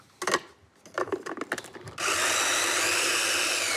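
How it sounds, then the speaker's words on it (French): Immersion blender whirring through blond dulcey chocolate with hot liquid for a salted ganache-style mousse base. A few short clatters come first, then a loud, steady motor whine runs continuously to the end. "Je vais mixer le tout."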